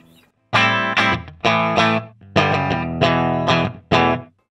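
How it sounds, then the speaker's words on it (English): An electric guitar played through the clean channel of an AMT R2 preamp into a Pangaea CP16 cabinet simulator rings out in six loud, close strummed chords with short gaps between them, sounding crunchy rather than pristine. "The sound you hear is the clean channel of the AMT R2 preamp,"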